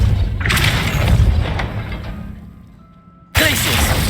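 A deep booming blast from the Depulso force spell in Hogwarts Legacy, a loud swelling impact that fades into quiet before a second sharp burst hits near the end.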